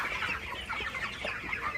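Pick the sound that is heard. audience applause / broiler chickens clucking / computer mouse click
broiler chickens clucking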